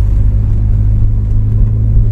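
Car engine running in second gear at around 2000 rpm while driving uphill on a highway, a steady low rumble with light throttle, continuous and close, no talking.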